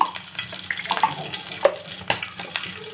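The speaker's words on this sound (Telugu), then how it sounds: "పోపు అయితే పెట్టుకోవడానికి ఒక ప్యాన్ తీసుకున్నాను అందులో ఆయిల్ అయితే వేసాము కొద్దిగా మినపప్పు" Urad dal sizzling in hot oil in a pan for tempering, a soft crackling fry with scattered pops and light clinks, fairly quiet and with no talk.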